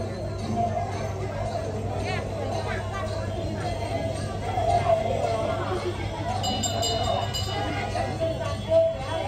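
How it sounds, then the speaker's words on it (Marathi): Crowd chatter fills a busy goddess temple on Kojagiri Purnima, a steady hubbub of many voices with occasional clinks and small metallic taps rising through the murmur. "खूप गर्दी पण आहे आज आहे वाढते पण आहे गर्दी."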